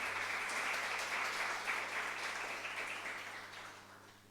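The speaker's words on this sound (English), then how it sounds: "Please welcome him with a round of applause." Audience applause welcoming a speaker to a lecture hall at Nalanda University, a steady wash of many hands clapping that gradually fades out over a few seconds.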